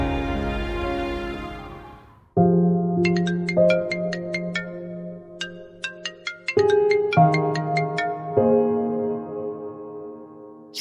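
A phone ringtone plays alone as a bright electronic melody of chiming tones, steady at first, then a run of short repeated beeps and further melodic phrases over about eleven seconds.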